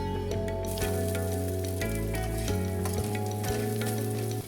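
Turmeric and chilli powder fry in a pan for a vegetarian dhoka curry, a close, steady crackling sizzle with scraping stirs, while a tonal background hum shifts pitch in steps underneath.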